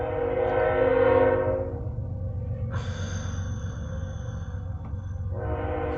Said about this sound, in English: The train's coming through, so I apologize for that.